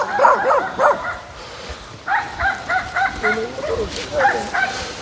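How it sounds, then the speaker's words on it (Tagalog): Several dogs bark in quick, overlapping bursts, fairly close, with yips and whimpers mixed in, in two clusters separated by a short lull. "Nagkagulo na yung mga aso."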